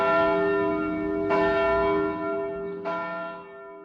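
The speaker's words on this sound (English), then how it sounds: "Paul cast the last, the largest, and the best of his bells for King's Chapel, where it still tolls today." The large bronze bell cast by Paul Revere tolls at King's Chapel in Boston, two deep strikes about a second and a half apart, each followed by a long ringing hum that slowly fades.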